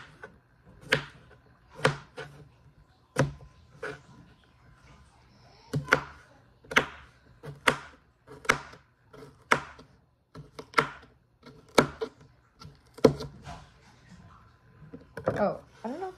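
Sharp knife chops through onions and peppers strike a cutting board one by one at an uneven, unhurried pace, close and clear, with short pauses between strokes.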